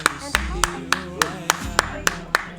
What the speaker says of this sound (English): Let's give a round of applause to mods.